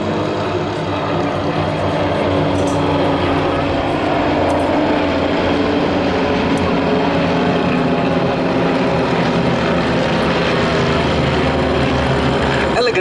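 Team Raven aerobatic aircraft fly in formation trailing smoke, their propeller engines making a loud, steady drone that fills the air throughout, with a commentator talking over it.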